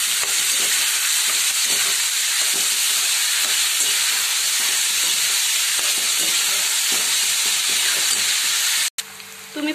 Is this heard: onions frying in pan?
yes